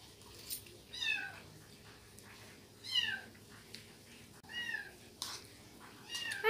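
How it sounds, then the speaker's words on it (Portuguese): A pet cat meows repeatedly indoors, four or five clear, moderately loud calls spaced a second or two apart over quiet room noise, with no one talking. "E meu gato tá miando muito."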